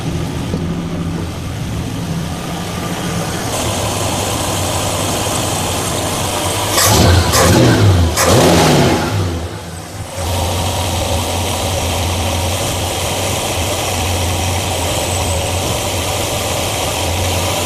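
A 1966 Ford Galaxie engine idles steadily nearby with a continuous rumble, briefly rising in a short rev before settling back to an even, smoothed-out idle.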